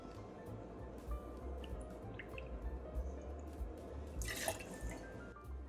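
Melon liqueur poured into a cocktail glass gives soft, faint trickling and dripping with a brief gurgling splash near the end, set against a low background hum.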